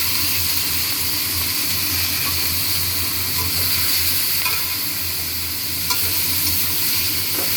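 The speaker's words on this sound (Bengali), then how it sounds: "বেগুন আলু ভালো করে ভেজেছি। এবারে সর্ষে পোস্ত দিয়ে দিলাম।" Brinjal and potato fry with mustard-poppy paste in a pan, a loud steady sizzle and hiss with occasional stirring scrapes, no talking.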